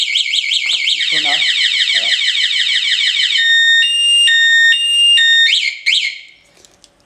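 A motorcycle alarm fitted to a Suzuki GSX-R K2 blares loud and close in a fast warbling siren, then switches to steady stepped electronic tones before cutting off, with a brief spoken phrase partway through.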